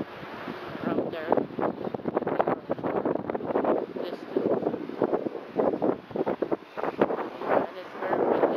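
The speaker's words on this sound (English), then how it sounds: "And it's very windy" Wind gusts buffet the microphone in rough, roaring bursts, loud and close, with the rush of open air throughout, in Taiwan.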